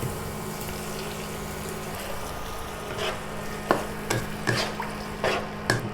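Garlic sizzles in a pan as sauce goes in for stuffed peppers, with a steady low frying hiss under several louder scraping stirs of a utensil, close and alone.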